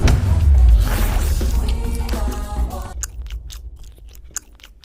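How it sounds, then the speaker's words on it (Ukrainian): Someone bites and chews a shawarma wrapped in very hard, tough lavash, heard up close: loud dense crunching at first, then quieter, sparser chewing clicks and smacks near the mouth. "Пробуємо шаурму за 295 гривень."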